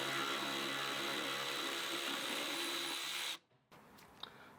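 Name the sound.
removing screws from BMW E36 headlight assembly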